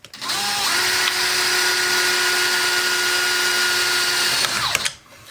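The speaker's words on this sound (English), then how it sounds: "We'll drill 2 holes." A power drill spins up and whines steadily for about four seconds while drilling holes in a tomato plant watering device, then winds down and stops, close and loud with no voices.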